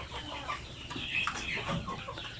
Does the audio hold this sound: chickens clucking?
yes